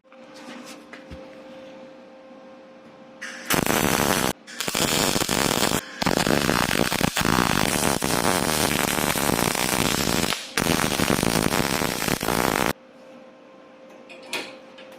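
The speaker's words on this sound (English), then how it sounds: "I've just tacked the plates together. Just going to grind them to separate them now." An angle grinder cuts apart tacked-together metal plates in a loud, harsh roar that comes in several long bursts with short breaks, bracketed by quieter workshop noise before and after.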